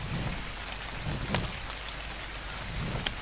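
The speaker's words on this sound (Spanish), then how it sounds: "Me está lloviendo." Steady rainfall hiss in ARK: Survival Evolved, with scattered raindrop ticks over a constant wash of sound; no voices.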